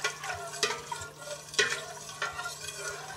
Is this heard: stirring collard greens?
yes